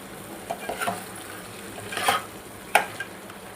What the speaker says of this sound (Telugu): ఇప్పుడు ఈ మసాలాలు అనేవి ఒక 2 మినిట్స్ కుక్ చేసుకుందాం.